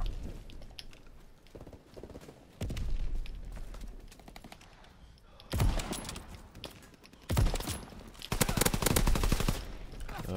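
Pistol and automatic gunfire in a Call of Duty-style Ground War match on the Dunkirk map, with loud repeated shot bursts that grow denser toward the end, over a faint speaking voice early on.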